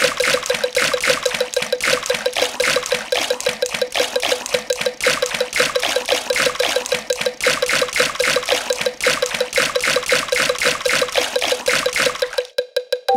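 Cartoon characters swimming in a Peppa Pig holiday video game make a steady run of rapid, rhythmic watery splashes and trickles with no talking, stopping abruptly near the end.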